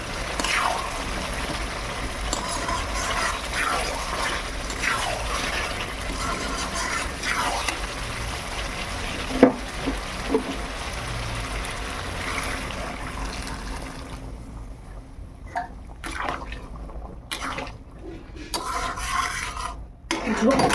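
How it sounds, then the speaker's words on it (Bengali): Water poured into a pot of browned, well-fried chicken curry, a steady broadband sizzle and rush that runs for about fourteen seconds before easing into quieter, intermittent stirring and clinks. "ঝোল বানাবো তাই আর একটু জল দিয়ে দিলাম।"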